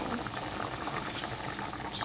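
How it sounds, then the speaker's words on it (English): Pot of water boiling fast on a stove while cooking chicken bog, a steady dense bubbling hiss heard fairly close and quiet, with no talk. "it's going to be bubbling really fast"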